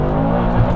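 A BMW M6 Gran Coupe with a dual-clutch gearbox accelerates hard, a loud, close, continuous engine roar in a brief burst.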